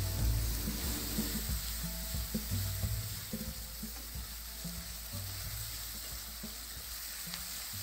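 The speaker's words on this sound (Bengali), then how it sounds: "পেঁয়াজটা লাল করে ভাজা হয়ে গেলে" Chopped onion and tomato, salted, fry in oil in a pan for a Bengali tangra fish curry, giving a steady close sizzle with occasional soft stirring knocks underneath.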